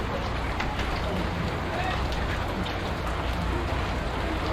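Heavy rain during Typhoon Carina, a steady dense broadband roar of downpour with no letup, close and loud throughout.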